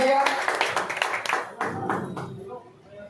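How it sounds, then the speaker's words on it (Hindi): At an award ceremony at a mega mart in Chhapra, a small crowd claps to welcome a guest, irregular nearby hand claps mixed in with a speaker talking over them. "सर का एक बार स्वागत करें आप सभी तालियों से"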